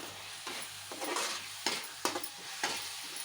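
Paneer masala curry with curry leaves and fresh coriander being stirred in a pan, soft sizzling under a few quiet, close scraping strokes of a spoon.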